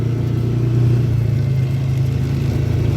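Polaris Ranger 400 4x4 utility vehicle engine roaring steadily at high revs during a spin-out, a loud, close, continuous mid-pitched drone with a slight swell near the start, no talking.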